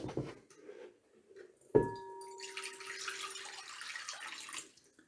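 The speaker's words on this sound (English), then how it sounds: "I washed my hands clean, and they watched me" Water splashes and trickles in a basin after a sudden clatter, with steady running and sloshing for a few seconds before it stops.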